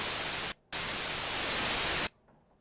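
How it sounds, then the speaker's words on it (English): A SunVox analog generator set to a noise waveform gives a loud, steady hiss in two bursts, the first short and cut off abruptly, the second longer, then a sudden stop to near silence. "Now under waveform, we're going to pick noise."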